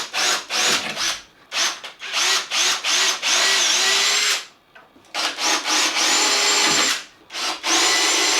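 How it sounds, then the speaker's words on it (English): Repeated bursts of a power drill biting into wood, each run a few seconds long with short pauses between, close and loud, with no talking. "then I pre-drill the wider one's edge to get ready for assembly"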